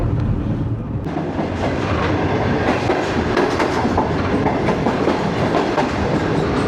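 Steady clickety-clack and roaring rumble from inside a moving Pak Business Express train running from Lahore to Karachi, loud and continuous as another train passes close by outside the window, with no talking.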